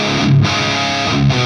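Electric guitar through a Suhr Riot Mini distortion pedal set for a light overdrive on a clean amp, giving a short sustained crunchy chord that rings steadily with slight swells.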